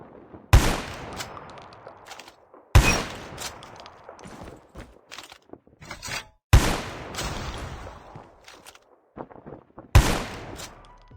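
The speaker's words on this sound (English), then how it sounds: "like the shootings of a gun while playing the game" Video game gunshots played through a Boat Bassheads 900 headset: four loud, sharp shots spaced a few seconds apart, each followed by a decaying tail and scattered smaller clicks and movement sounds.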